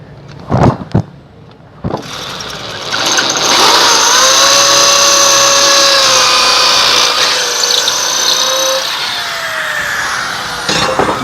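A power drill boring into brick whines steadily at high speed for several seconds after a few sharp knocks, loud and close, grinding without pause and then slowing near the end.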